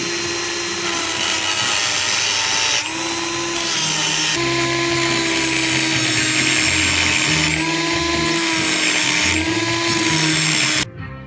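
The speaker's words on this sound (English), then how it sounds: "Two more things we're going to grind out with the Dremel." A Dremel rotary tool grinds out parts of a GM Chevelle door hinge, a loud continuous high-pitched whine that dips and rises in pitch as the load changes over about eleven seconds and then cuts off abruptly.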